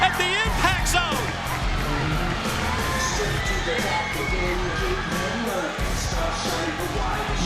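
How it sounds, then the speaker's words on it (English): A capacity crowd at the Impact Zone wrestling arena roars and cheers for Jeff Hardy at a TNA event, a loud sustained ovation with whoops and shouts heard under continuous commentary. "What a reaction from this capacity crowd at the impact zone."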